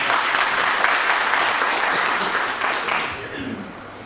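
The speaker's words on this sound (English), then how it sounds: "Can you please give a round of applause?" An audience applauds steadily at a product management talk, dense clapping filling the room and easing slightly toward the end, with no voices over it.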